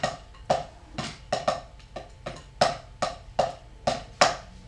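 Drumsticks clicking out an uneven, slightly rushed eighth-note pattern, sharp taps at irregular spacing with some hits louder than others.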